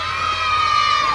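A crowd of children at a Children's Day event shouts together on cue, a sustained high-pitched collective yell holding steady and loud for just over a second.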